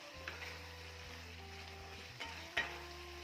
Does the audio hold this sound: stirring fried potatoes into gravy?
yes